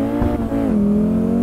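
A tuned Ford Fiesta XR2 lapping the Tsukuba circuit, its engine droning loud and close, with a brief dip and rise in pitch as it shifts before settling into a steady, sustained tone.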